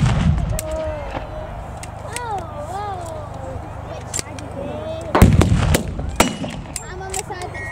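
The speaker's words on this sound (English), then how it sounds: "The artillery is getting more accurate now as the British troops advance in two columns towards the enemy at the top of the hill." Wartime re-enactment artillery fire sounds as a few loud booms and sharp bangs, a big blast near the end, amid crowd noise and voices, with a narrator talking over it.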